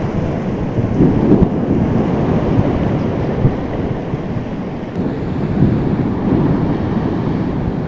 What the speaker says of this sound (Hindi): इधर से लहरें बड़ा आ रहा है।